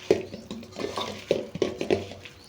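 Marinated chicken pieces for biryani are mixed in a bowl, with soft wet stirring and several sharp clinks of a utensil against the vessel at an uneven rhythm, close and alone.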